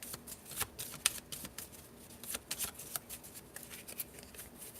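A deck of tarot cards is shuffled by hand, giving irregular crisp riffles and taps that come close and crackly in uneven bursts, with no voice over them.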